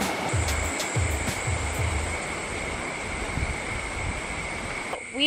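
Steady rushing water, like a stream or surf, runs throughout a humid outdoor hike, with gusty wind noise on the microphone and some low thumps, fairly loud and continuous.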